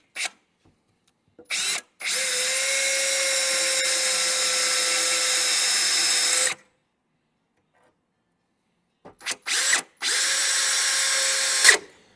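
A power drill whines steadily through the metal bed sides of a 1965 Chevrolet C10 pickup in two long bursts separated by silence, each preceded by short trigger blips, loud and close.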